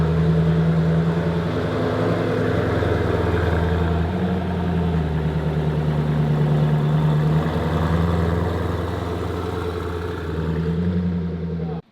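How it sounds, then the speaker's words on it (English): A Koenigsegg Agera RS Phoenix hypercar idling, a steady, loud, close engine hum with a deep, even rumble throughout that cuts off abruptly at the end. "So we're gonna start the Phoenix, and we're gonna show you how to start."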